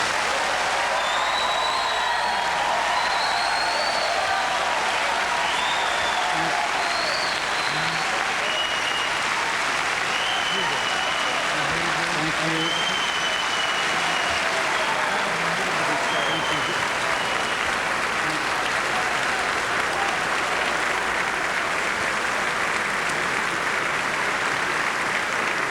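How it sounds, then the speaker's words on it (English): Loud, sustained applause filling a presidential debate hall after the candidates' final statements in 1988, a dense, even roar of clapping with faint voices and whistles mixed in. "Very loud applaud in the hall for both final statements."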